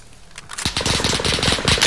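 Gunfire in a video game, shooting from up a mountain, comes as a rapid rhythmic string of sharp shots following a brief quiet moment, loud and close.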